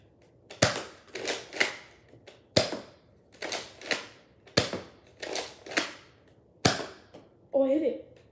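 Nerf blaster shots fire one after another, about ten sharp snapping pops in an uneven rhythm, close and fairly loud, with a brief voice at the end.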